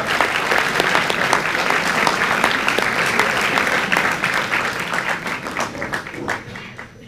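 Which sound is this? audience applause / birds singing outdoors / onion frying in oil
audience applause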